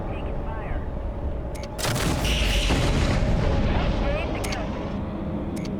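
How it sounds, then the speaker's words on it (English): Artillery fire in MechCommander 2 lands as a loud, sustained rumbling barrage that swells suddenly and rolls for several seconds, with game tones and a voice over the din. "direct the artillery to fire on the area in front of them"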